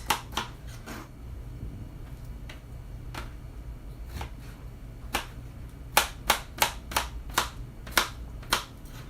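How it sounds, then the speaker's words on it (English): Kitchen knife chopping a peeled half potato into small cubes on a small cutting board, a series of sharp, close taps, scattered at first and then a quicker run of evenly spaced chops, with a steady low hum underneath. "So we're gonna cut it up into small cubes."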